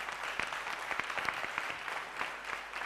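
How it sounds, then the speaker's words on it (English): A crowd of students applauds Thabo Mbeki at a TMALI gathering, sustained clapping at a moderate distance, steady and fairly soft throughout. "You must be applauded for that."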